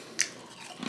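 A single sharp, close bite crunches into a cheddar cheese crinkle-cut potato chip, followed by quiet chewing.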